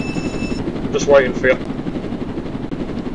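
Helicopter in the Roblox Jailbreak video game, a steady low rotor and engine drone running throughout under players chatting over voice, with a short burst of speech partway through.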